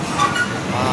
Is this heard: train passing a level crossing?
yes